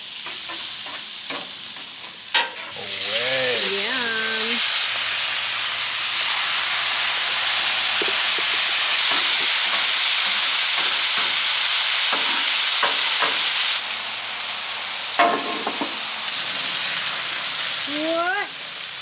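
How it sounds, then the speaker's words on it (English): Top sirloin beef steaks sizzle loudly on a hot flattop griddle in a steady, close frying hiss lasting most of the clip, with people talking briefly at the start and near the end. "I can hear it sizzling. Time for the meat."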